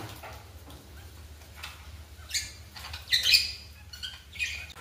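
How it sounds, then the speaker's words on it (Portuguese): Budgerigars chirp in an aviary in scattered short bursts, a few sharp tweets standing out over a low background hum, with no talking. "Deixa eu dar uma olhada aqui no viveiro. Então, os periquitos australianos."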